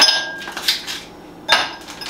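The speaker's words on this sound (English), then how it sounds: "Cup. Ice from an ice tray, because I'm bougie." Ice cubes from an ice tray tumble into a cup, giving a few bright clinking clatters in quick bursts, then a short pause before another clink, close and fairly loud.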